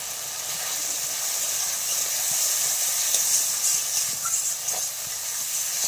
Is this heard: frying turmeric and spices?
yes